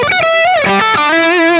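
Electric guitar played through a JHS 3 Series Screamer overdrive pedal, a loud, saturated, sustained phrase with rich harmonics and gliding bends, rather stiff and distortion-like in character, heard alone.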